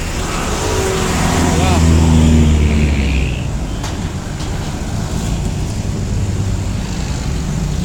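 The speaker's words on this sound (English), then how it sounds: "Okay, here's another jeepney." A jeepney rolls past on a busy Manila street with a loud low engine drone that swells and fades, surrounded by steady traffic noise.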